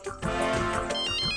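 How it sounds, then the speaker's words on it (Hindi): A phone rings loudly in a comedy drama household scene, a dense tonal ringtone that plays continuously and close up, with no voices over it. "आया माया का फोन आया।"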